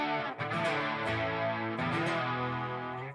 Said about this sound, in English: I didn't mind chorus with distortion in front of either